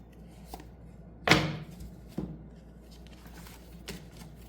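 Tarot cards are handled and drawn from a deck: a soft rustle, then one sharp close slap-like snap, with a few lighter taps and flicks over a quiet background.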